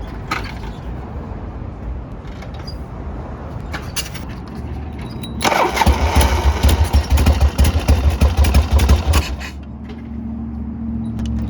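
A motorcycle is kicked over and its engine catches, running loud and close with a rough, pulsing idle for several seconds before it drops off.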